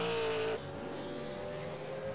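A V8 race car in a sim racing game at Zolder roars past close by, its engine pitch dropping sharply as it goes, then a steady fainter engine drone.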